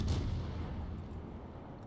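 A heavy warship gun salvo in World of Warships opens with a deep booming blast that rolls off into a long low rumble, loud at first and fading, with no talking.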